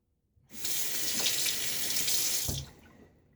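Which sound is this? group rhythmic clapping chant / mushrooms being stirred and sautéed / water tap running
water tap running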